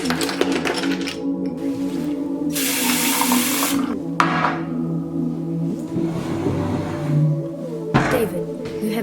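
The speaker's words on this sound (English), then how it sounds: "Get yourself a glass of water from the fridge." Running water from a fridge dispenser fills a glass indoors, a steady pouring hiss with clinks and mechanical hum around it, fairly close and continuous for several seconds.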